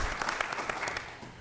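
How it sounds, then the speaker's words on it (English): An audience at a cannabis career fair and business expo applauds, a dense patter of clapping that is moderately loud and sustained, then tapers slightly at the end. "One more round of applause for Rob and Stockton, everybody."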